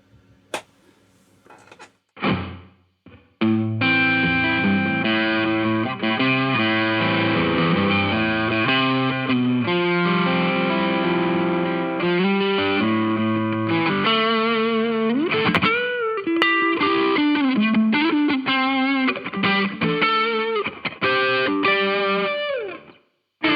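An electric guitar plays sustained chords and notes through a washy reverb and distortion, ringing tails spilling between phrases, loud and continuous with brief pauses.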